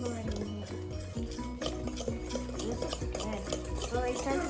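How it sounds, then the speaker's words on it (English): Dry ingredients being stirred into wet zucchini bread batter with a utensil, repeated soft scraping and clinks against a bowl in a quick rhythm, close, with people chatting over it. "And then you're going to stir the dry ingredients into the wet ingredients."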